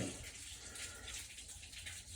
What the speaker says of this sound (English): we're getting a ton of water out of the tank before it freezes tonight